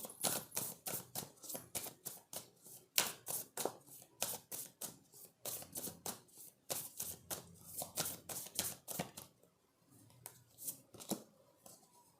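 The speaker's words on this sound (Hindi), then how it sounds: "यहाँ से मैं एक कार्ड लेती हूँ" Tarot cards are shuffled and handled close up, a long run of quick, crisp slapping clicks in rapid bursts with brief pauses, fairly quiet and without speech.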